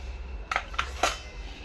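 A knife scrapes Oreo cream onto a plate, giving three quick light metallic scratches and taps on the plate over a low background hum.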